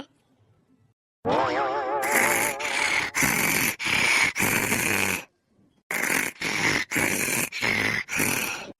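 Two women snore loudly and close by: one long rasping snore, then a run of short, harsh, regularly spaced snorts with brief silences between them.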